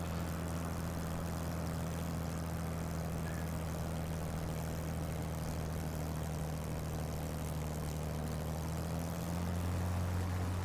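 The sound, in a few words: Spitfire aircraft engine in the video game Microsoft Flight Simulator 2020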